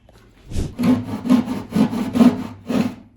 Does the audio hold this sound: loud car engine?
no